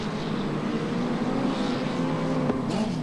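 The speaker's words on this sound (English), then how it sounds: "There's Ted Tracy, the man to beat, pulling out quite a lead now in this first of 3 races for the midgets" Midget race cars roaring around a track at a 1987 New Zealand championship race, a continuous droning engine noise with shifting pitch, heard from a distance without talk.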